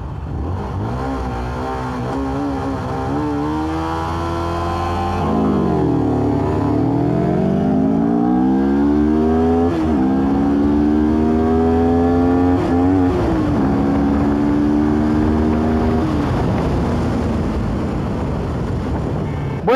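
Two motorcycles, a CF Moto NK400 and an SR250, accelerate hard side by side in a short drag, engines rising in pitch through several gear changes with steady wind buffeting close to the microphone.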